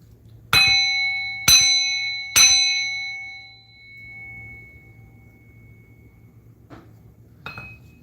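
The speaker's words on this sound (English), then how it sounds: "Let's bang this bell" A ritual bell struck three times about a second apart, each strike ringing out with a bright, sustained metallic tone that slowly fades, followed by a couple of faint taps against a quiet low hum.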